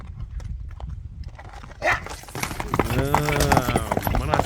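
A heavy dark horse with a white blaze trots along, its hooves clip-clopping in a quick rhythm at a moderate distance, while someone talks and another voice is heard near the end.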